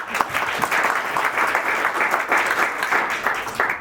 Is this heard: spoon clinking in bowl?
no